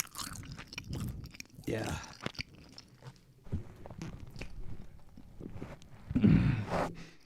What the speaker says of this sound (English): Let's go ahead and get some chew sounds.